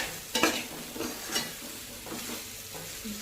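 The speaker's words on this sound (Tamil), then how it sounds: "கத்திரிக்காய் கிளறப்போ உடஞ்சிட போகுதுங்க அதில் பார்த்து கிளறுங்க" Eggplant fries in oil in a pan for Tamil ennai kathirikai kulambu while a spoon stirs it, soft scraping strokes repeating roughly every half second over a quiet, steady sizzle.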